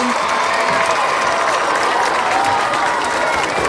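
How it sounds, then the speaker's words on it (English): Crowd applause and cheering in the stands at a high school football game, saluting the East Central Marching Trojans band; dense, steady clapping with scattered shouts, loud and continuous throughout. "one more round of applause for your very own East Central Marching Trojans!"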